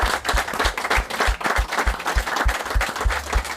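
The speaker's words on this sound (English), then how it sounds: "Give them a big round of applause" An audience gives a big round of applause, a close, busy stretch of many hands clapping at once with no voices over it.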